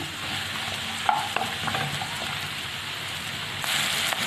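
Chili peppers frying with garlic in a pan, a steady close sizzle with occasional stirring scrapes and clicks.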